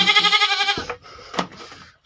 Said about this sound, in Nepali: अझै यस्ता बाख्रा पाठा पो गइरहेको छन्